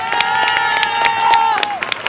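An audience at a radio singing contest in Albertville claps and cheers loudly, with dense clapping, shouts and a sustained whistle-like tone rising over the crowd.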